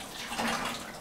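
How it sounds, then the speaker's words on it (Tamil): Water runs steadily from the tap of a Mr.shot 2.0 instant running water heater as it delivers hot water, a continuous close splashing flow lasting about a second with no voices. "இப்போ ஓப்பன் பண்ணுறேங்க சார், தண்ணி வருது."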